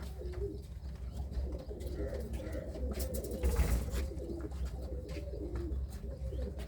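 Pigeons in a loft around Anandpur Sahib coo steadily and close by, layered soft calls with a brief flutter midway and faint voices in the background.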